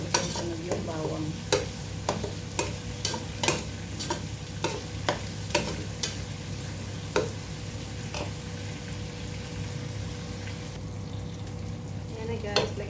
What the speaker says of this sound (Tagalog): papupulayin natin muna ng konti itong sibuyas